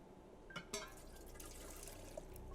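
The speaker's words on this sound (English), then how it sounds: "And it's filled up with water." A fire extinguisher being filled with water in the video game The Silent Age, heard as a faint, low liquid trickle and gurgle with a couple of soft knocks and a single small drip near the end.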